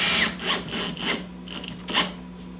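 A power drill drives two screws into the toe kick of a reptile rack, giving short whirring bursts at close range with brief pauses between them.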